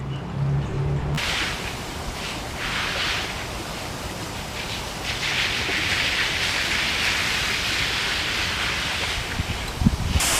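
Water sprays across a farm plot in a steady, hissing, rain-like rush that keeps going for the whole stretch, close and fairly loud, with a faint knock near the end.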